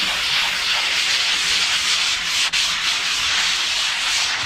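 Steady, rasping hand sanding of a kitchen cabinet door, an even scratchy hiss of sandpaper rubbed back and forth over wood, close and loud with a brief pause midway.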